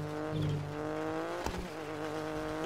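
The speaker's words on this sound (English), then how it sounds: "I'm on some heavy gravel right now, I can hear it." A rally car in WRC 10 on the Estonia Rally runs over heavy gravel, its engine droning steadily at high revs with a faint gritty crunch of stones beneath, plus one brief thud midway.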